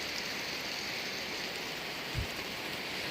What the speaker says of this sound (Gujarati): આ બાજુ પણ તમે જોઈ શકો છો કે વરસાદ ખૂબ પડી રહ્યો છે